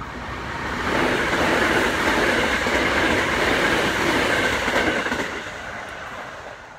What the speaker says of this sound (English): i sometimes ride the Hanshin trains depending on where i need to go